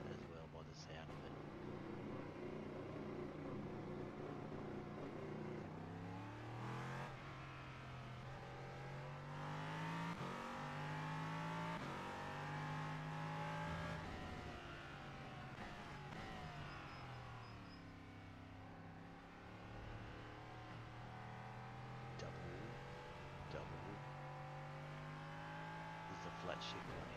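A race car engine in iRacing revs up and down repeatedly through gear changes, pitch rising and falling, with a voice talking over it.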